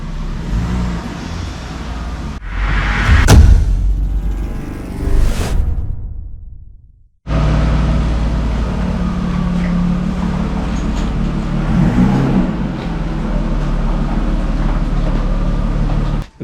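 A BMW E34 car drives with a loud, steady engine and road roar that drops out briefly before resuming and continuing strongly to the end.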